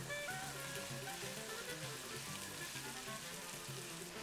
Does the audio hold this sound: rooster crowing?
no